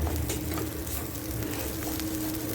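Rice with bell pepper and onion frying in a pan, giving a steady, close sizzle with light stirring scrapes throughout and no talking.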